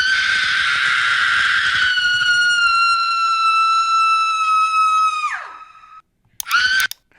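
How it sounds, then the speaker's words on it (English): A woman screams in a stock sound effect: one long, loud, sustained cry that tails off downward, then a second short burst after a brief pause. "Woman scream."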